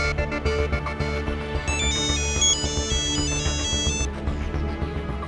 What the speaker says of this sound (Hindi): जी आराधना जी को फोन करके देखता हूँ